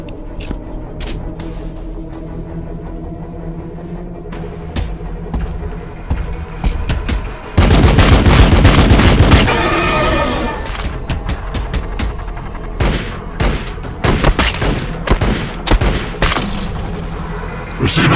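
Battlefield gunfire in Warhammer 40,000: Battlesector crackles as scattered shots, then a dense loud barrage erupts for a couple of seconds before thinning back into intermittent sharp reports.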